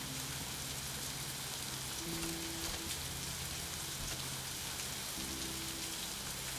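Rain falls in a steady, even hiss that fills the whole stretch, with a faint low hum underneath and no voices.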